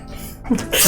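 A single sharp sneeze bursts out near the end, preceded by a quick inhaled gasp, close to the microphone with low room noise.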